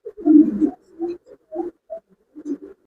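Large pigeons coo in a string of short, soft, throaty calls, about six or seven separate phrases close by with brief pauses between them.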